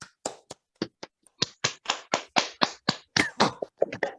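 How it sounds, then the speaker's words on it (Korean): Audience applause at a lecture event comes as sparse, separate claps from a small group, fairly close and irregular, gradually thickening, with no talking over it. "그래서 큰 박수로 좀 부탁드리도록 하겠습니다."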